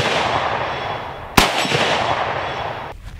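A single sharp gunshot strikes an AR500 steel target plate, a loud crack with a brief metallic ring over steady outdoor background noise, heard once alone.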